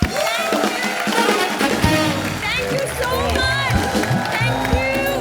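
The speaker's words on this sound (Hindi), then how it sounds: "एक बार सिद्धार्थ और जैकी के लिए जोरदार तालियां।" Applause and cheering from the studio audience of a Hindi comedy talk show, a loud crowd roar with whoops and shouts mixed with music and excited voices.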